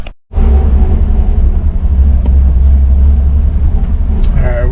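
A 1966 Ford Mustang barn find is out on a drive, its engine a loud, close, continuous low rumble that starts abruptly after a brief moment of quiet and holds steady throughout.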